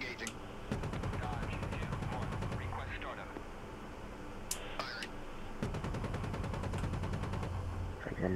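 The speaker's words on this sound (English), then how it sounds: "Engaging the house with gun" An Apache helicopter's gun in the DCS Cold War combat game fires on a house in a city, rattling out two long, rapid bursts of closely spaced shots over a constant engine and rotor drone.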